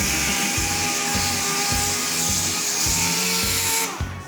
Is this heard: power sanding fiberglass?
yes